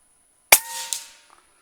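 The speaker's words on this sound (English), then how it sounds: "there's 2 shots, 60 yards" A single sharp crack from a Kalibrgun Cricket 9mm air rifle, loud and close, with a short metallic ringing tail and faint ticks after it, no voices.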